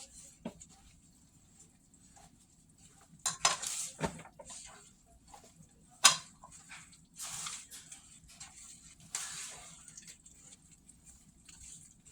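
Ablo batter ingredients being stirred in a bowl, with sparse scraping and clinking of a utensil against the dish, some louder knocks, and quiet pauses between strokes.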